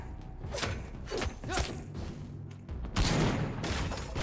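Shotgun blasts ring out in the vampire action game Vampyr: several heavy, booming shots that thud close and loud over a constant rumble of game sound.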